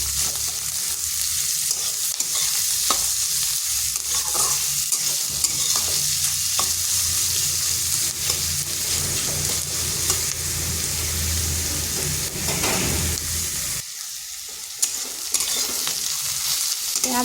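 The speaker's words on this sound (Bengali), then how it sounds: "পেঁয়াজগুলো হালকা একটু ভেজে নিচ্ছি।" Chopped onions frying in a pan for sajne flower chochhori, a loud continuous sizzle with repeated scraping and stirring strokes, a brief lull near the end.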